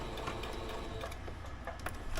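A sewing machine stitching straight through sequined fabric, a short close run of rapid mechanical clatter with a faint background hum.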